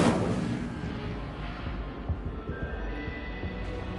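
The Incendio fire spell is cast in Hogwarts Legacy, opening with a sharp burst that trails into a crackling, rumbling whoosh and then fades to a lower hiss over a few seconds, with no speech heard.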